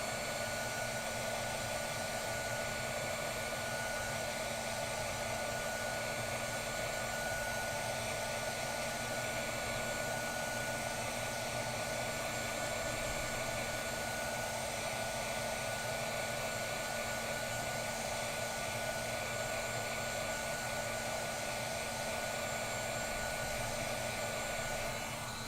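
A heat tool blows hot air onto stamping foam, giving a steady, loud, unbroken whoosh of airflow that holds constant for the whole stretch with no talk.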